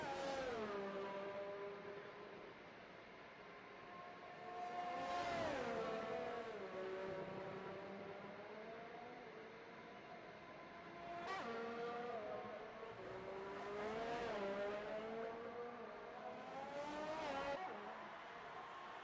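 Race cars in a sim racing game on the Canadian Grand Prix circuit, engines revving and shifting through gears with rising and falling whines, several cars passing by at a steady loud level.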